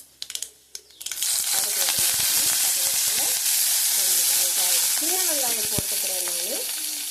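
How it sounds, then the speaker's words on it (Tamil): Curry leaves drop into hot oil for Tamil mor kuzhambu, bursting into a loud, crackling sizzle after a few soft clinks, with stirring scrapes and spattering continuing steadily throughout. "இப்போ கருவேப்பிலை போட்டுக்கலாம்."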